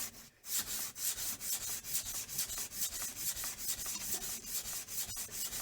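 A hand plane blade is sanded by hand to remove pitting, a quick rhythmic run of rasping strokes at about three per second, close and clear with a brief clunk at the start.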